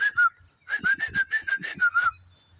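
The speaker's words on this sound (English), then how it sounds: "got to listen to the bird doing illegal crackbacks. You hear it go real fast." A bird calling fast out in a field, a quick string of about a dozen sharp, clear whistled notes in a steady rapid rhythm after two opening chirps, fairly close and alone.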